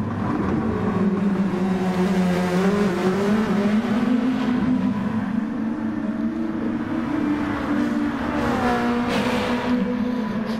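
SUPER GT and DTM race cars, including the number 24 Realize GT-R on Hankook tires, race down a straight. Their engines drone loud and steady, with pitch sweeping upward as they accelerate and pass close by.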